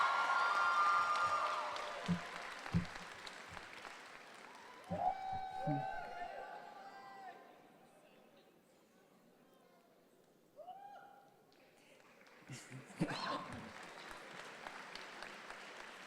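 Audience applause and cheering at a College of Veterinary Medicine spring graduation ceremony, bursts of clapping and voices rising and fading at intervals across a large hall, with quieter gaps of murmur between.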